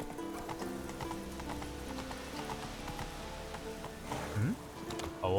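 Horse galloping in the video game The Witcher 3, rapid hoofbeats pounding steadily against game music, with a short whinny near the end.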